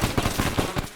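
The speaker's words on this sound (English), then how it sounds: "just gonna fire a few rounds" Rapid bursts of gunfire in the military shooter game Arma 3, a quick string of about seven sharp, loud shots in an uneven rhythm with no talking.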